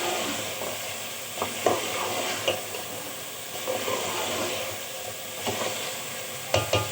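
Spices and chicken sizzle and hiss loudly in a pan for palak chicken. Repeated stirring scrapes and spoon knocks break up the steady frying.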